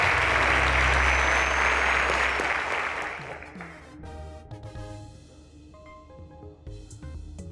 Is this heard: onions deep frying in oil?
no